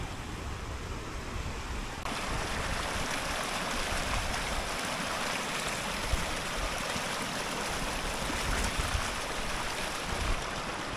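Steady rushing and splashing of water as someone rinses off outdoors in New Zealand, a continuous close wash that grows louder after the first couple of seconds, with no voices.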